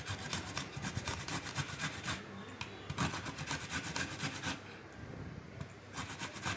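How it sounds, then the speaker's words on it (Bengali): Peeled raw mangoes are grated against a grater in a bowl, with a steady, continuous rasping scrape that runs close and loud throughout and pauses only briefly. "আম দুটো ধুয়ে খোসা ছাড়িয়ে একটা বাটিতে ভালো করে ঘষে নিলাম।"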